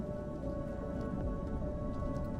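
Rain pours steadily in the Rain World video game, a dense, even hiss with a low rumble beneath and no voices.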